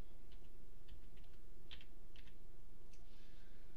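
Light typing on a computer keyboard, a handful of soft scattered keystrokes over a faint steady hum, quiet and close, with no voices.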